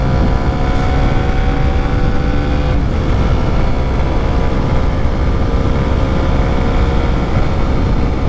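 A Suzuki Raider motorcycle engine runs loud and close for the whole stretch, a steady dense drone with a brief shift in pitch partway through as it is revved. No voices are heard.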